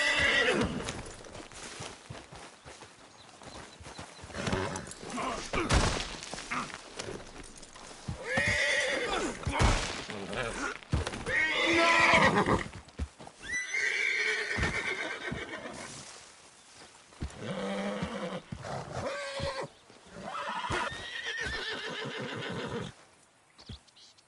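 Video game horse in Red Dead: repeated whinnies and snorts over steady clip-clopping hooves, loud and close, running continuously for a long stretch.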